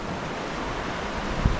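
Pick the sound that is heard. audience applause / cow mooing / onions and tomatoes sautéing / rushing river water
rushing river water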